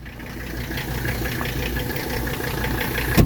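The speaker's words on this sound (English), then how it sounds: "Let me go ahead and fire it up." Engine of a 1985 wagon with new engine mounts and a fresh valve adjustment, idling at a steady low rumble for the whole span, close by, with a brief knock near the end.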